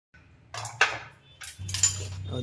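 Metal spoon stirring yogurt in a bowl with chopped coriander, turmeric and salt, producing several close clinks and scrapes against the bowl in quick irregular bursts.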